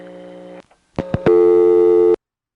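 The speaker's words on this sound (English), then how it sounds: "Nice ringtone on the Goshen vacant number intercept trunk." Special party-line ring on a 1977 step-by-step telephone exchange's vacant number intercept trunk in Goshen, New York: a buzzy tone, a pause, short clicks, then a longer loud electromechanical ring that stops abruptly.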